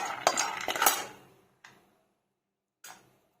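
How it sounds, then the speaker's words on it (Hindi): Almonds being dry roasted in a pan give off a burst of rattling, clinking scrapes for about a second, followed by two short isolated clinks with quiet gaps between them. "ये बादाम को हल्के से इसको ड्राई रोस्ट करेंगे।"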